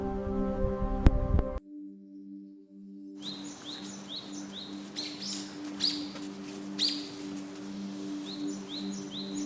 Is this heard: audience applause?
no